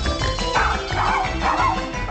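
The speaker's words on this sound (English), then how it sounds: "When barking is a problem" A Jack Russell Terrier makes short, close, rough barking and yipping sounds in quick succession, fairly loud and continuous over the brief stretch.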